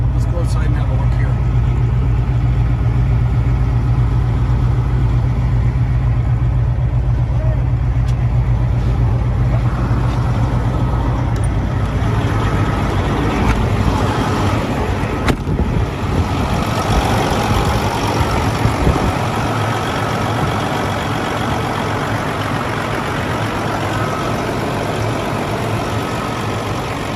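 A 1996 Freightliner FLD120 truck's diesel engine idles steadily nearby with a low, rumbling drone that shifts slightly partway through, continuing without a break.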